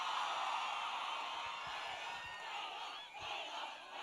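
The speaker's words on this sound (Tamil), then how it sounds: "ஒரு பெரிய கைத்தட்டல்" A crowd at the launch event for the PS2 anthem cheers and shouts loudly with applause mixed in, a sustained roar of many voices that dips briefly before swelling again.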